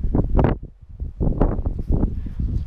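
Strong wind buffets the microphone at a campsite, coming in loud, uneven rumbling gusts that rise and fall without a break.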